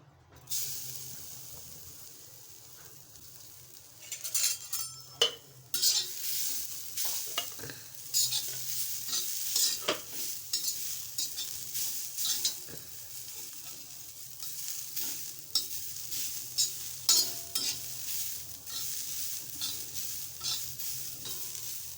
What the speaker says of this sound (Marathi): गरम तव्यावर भाजून घेणार आहे